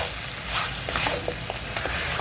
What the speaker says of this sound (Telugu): మ్యారినేట్ చేసుకుని ఉంచుకున్న చికెన్ని ఇందులో యాడ్ చేసుకోవాలండి. ఒకసారి మొత్తం కలపాలండి.